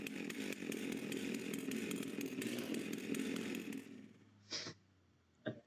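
A chainsaw in Farming Simulator 25 buzzes steadily for about four seconds, then winds down. Two short, sharp mechanical clicks follow in near silence.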